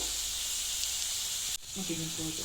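Cauliflower pieces for gobi manchurian frying in hot oil give a steady, close sizzling hiss throughout, with a brief dip partway and a faint voice afterward.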